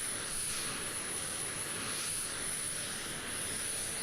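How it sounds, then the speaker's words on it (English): Steady jet engine spool-up of an F-22 Raptor in Flight Simulator X, a faint, even whoosh with a thin high whine running across the whole stretch. "Let's get the right engine going"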